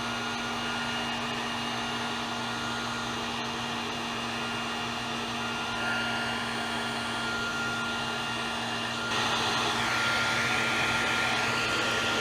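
Heat gun blowing hot air onto metal parts to straighten them during a jon boat conversion, a steady close whooshing roar with a faint electric hum, growing slightly louder near the end, no talking.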